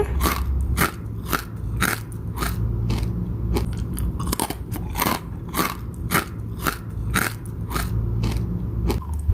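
Loud, close crunching bites into a crispy fried sweet potato snack, followed by crackly chewing, repeated steadily with no talking.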